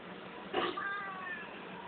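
A cat at a shelter housing many cats gives one clear, drawn-out meow with a wavering tone, heard close over a steady background hiss.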